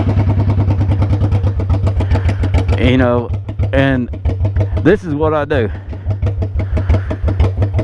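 A motorcycle engine idles close by with a steady, rapid, loping pulse throughout, while someone speaks over it.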